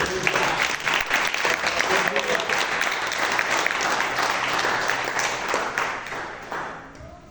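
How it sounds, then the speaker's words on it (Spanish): A church congregation claps hands as an offering to God during a sermon, sustained, dense applause filling the room for several seconds before tapering off. "Dame una ofrenda de palmas a Dios."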